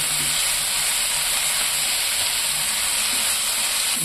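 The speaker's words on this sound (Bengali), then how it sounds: "এগুলোকে ভালো করে একটু ভেজে নেব" Eggplant and egg pieces frying in a pan give a steady, close sizzle and hiss that holds evenly without a break, with no talk over it.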